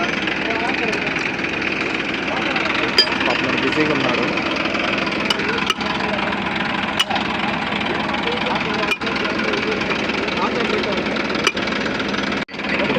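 A tractor with a fault idles steadily nearby, its constant low chugging broken by occasional sharp clicks and knocks, while a person talks over the engine noise.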